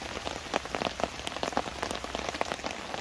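Steady rain patters on a taut tarp overhead at a camp on a disused railway viaduct, dense irregular drops tapping close by, with no voices.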